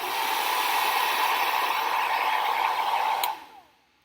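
A blow dryer blasting air at a small box, a loud steady whooshing roar that cuts off near the end and winds down into quiet.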